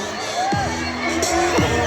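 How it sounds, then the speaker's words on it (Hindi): A crowd at a school sports week fun games event cheers and shouts, with excited children's whoops rising over a steady hubbub in a short, lively burst. "भरपूर तालियां।"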